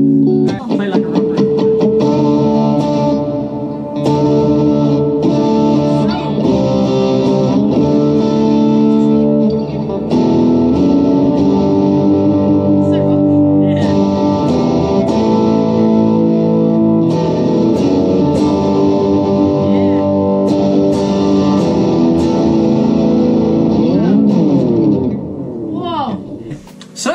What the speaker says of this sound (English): The first playthrough of Bella playing her new guitar with the brand new pickups